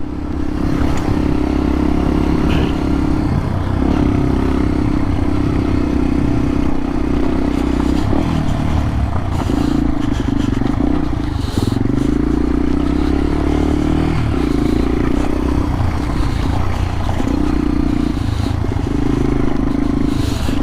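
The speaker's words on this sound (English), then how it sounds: "This bike actually takes the jumps alright." A motorcycle rides off-road over jumps and rocks, its engine droning loudly and continuously at close range with rising and falling revs, while clattering and scraping from the rough ground run under it throughout.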